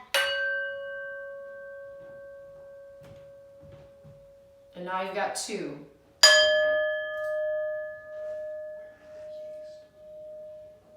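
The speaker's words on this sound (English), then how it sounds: "I have two singing bowls here that are a whole step apart" A singing bowl is struck and rings with a long, slowly fading tone. A voice speaks briefly, then a second bowl tuned a whole step apart is struck and rings on.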